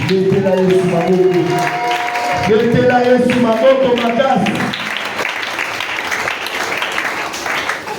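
A church congregation claps and cheers at a Sunday thanksgiving service, with loud sustained applause mixed with singing voices and crowd noise, easing into a softer, continuous patter of clapping.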